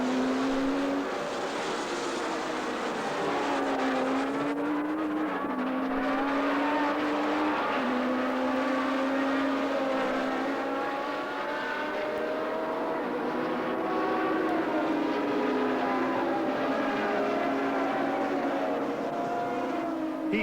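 1982 Formula 1 race cars, including Keke Rosberg's normally aspirated Cosworth Williams, roar past in a loud, continuous engine howl whose pitch rises and falls with gear changes and passing cars, with no talking.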